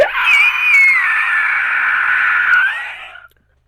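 A shrill, sustained scream voiced by a person imitating a giant spider creature during a fantasy tabletop game, loud and wavering for about three seconds before cutting off into silence.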